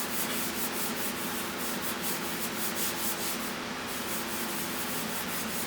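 Abrasive paint polish is scrubbed over painted bodywork, giving a steady, close rubbing and scouring sound with a faint back-and-forth rhythm and no talk.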